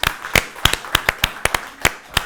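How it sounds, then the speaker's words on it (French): Scattered, separate hand claps from an awards ceremony audience in Luxembourg, a dozen or so sharp, close claps spaced unevenly rather than a full dense round of applause. "ça mérite de nouveau une salle d'applaudissements pour tous les soignants"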